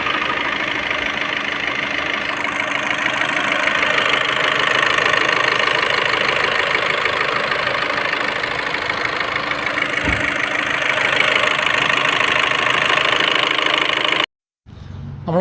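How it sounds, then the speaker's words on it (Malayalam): A Volkswagen car engine idles steadily and evenly after a faulty fuel injector was replaced with a second-hand one, a close, constant running hum that cuts out abruptly just before the end. "ഇപ്പോൾ എഞ്ചിൻ നല്ല സ്മൂത്തായിട്ട് ഓടുന്നുണ്ട്"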